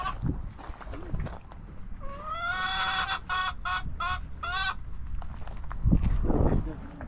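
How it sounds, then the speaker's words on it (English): Chickens at Carmel Valley Ranch cluck in a quick run of clipped, repeated calls close by, surrounded by people talking and outdoor background noise. "There's so many chickens."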